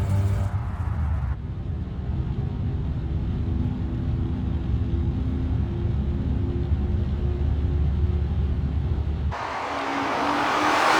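Interior drive of a BMW Alpina B12 E32 with a V12 engine and manual gearbox, a steady low engine rumble that holds for several seconds, then shifts abruptly in tone near the end.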